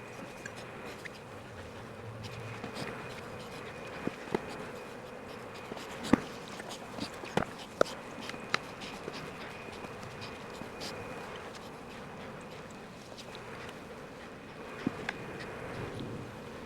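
Riled-up honey bees buzz during a summer apiary inspection in Florida, a faint steady hum of many insects with scattered light clicks and taps from hive handling, without speech.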